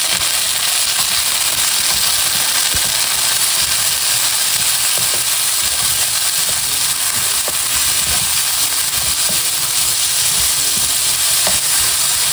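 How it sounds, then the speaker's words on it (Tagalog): Tomatoes frying in a hot kawali, with a loud, dense, continuous sizzle and hiss close up, broken by frequent stirring scrapes and clatter. "Ito pong mga kamatis ay ilalagay ko na rin po dito sa kawali."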